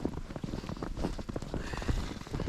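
Horses whinny amid a busy outdoor scene in winter, with hoof clops and rustling running throughout at steady moderate loudness.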